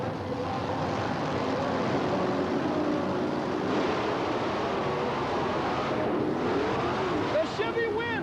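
Two monster trucks, the Excalibur Chevrolet and a Ford, race side by side at a 1990 USHRA event in Oklahoma City, their engines a continuous loud roar with crowd and arena noise throughout, and a brief rising whine near the end.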